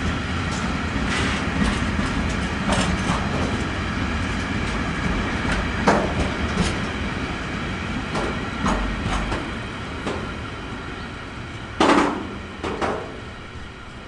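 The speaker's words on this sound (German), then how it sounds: "jetzt kommen wieder Haufen Züge hier irgendwie gefühlt" Trains rolling through the station area at Aschaffenburg, Germany, with a loud continuous rumble and rhythmic clickety-clack of wheels over rail joints, plus occasional screeches and clanks as cars pass close by.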